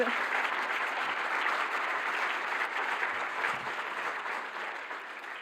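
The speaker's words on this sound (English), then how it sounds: "Big applause." Sustained audience applause at the closing plenary of the EOSC Symposium 2024, a large room of steady, even clapping that fades slightly toward the end.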